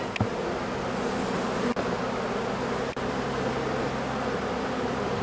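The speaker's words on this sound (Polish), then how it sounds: "grubo te pszczoły na tych plastrach obsiadają" Young honeybees crowd thickly over the combs of a hive, giving a steady, close, droning buzz with an even hum, broken by a couple of brief sharp clicks.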